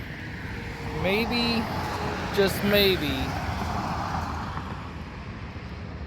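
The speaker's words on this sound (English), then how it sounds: "I apologize about the noise in the background. This is a highway coming through here." Steady highway traffic roars in the background beside a backyard garden, a constant broad rumble of passing vehicles under a man's brief speech.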